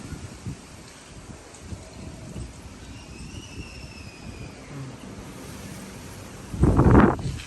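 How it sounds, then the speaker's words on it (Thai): Strong wind blowing ahead of an approaching storm, a steady rushing and rustling through leaves with occasional gusts and a loud buffeting surge of wind against the microphone near the end. "ลมมาแรงมาก ๆ เลย"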